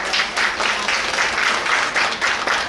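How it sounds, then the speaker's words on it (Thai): An audience applauds award winners at a Thai NETSAT chemistry, physics and biology competition ceremony, giving steady, continuous clapping throughout, fairly loud and with no talking over it. "ขอเสียงปรบมือด้วยครับ"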